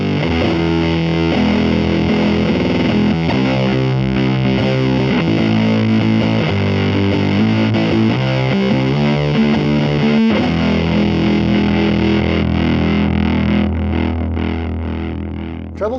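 An electric guitar played through a Keeley Fuzz Bender hybrid fuzz pedal, thick saturated fuzz with heavy exaggerated bass, a series of riffs and sustained chords ringing loud and close before fading at the end.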